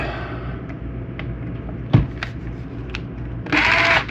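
Fanttik Fold S1 Apex electric screwdriver tightening a screw: a few faint clicks and a knock, then a short, bright whirring burst of the motor near the end, close and alone.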